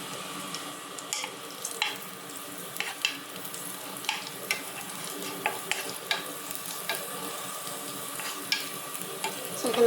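Garlic frying in olive oil in a pan for fried rice, a steady close sizzle broken by repeated sharp scrapes and clicks of a utensil stirring at an irregular pace.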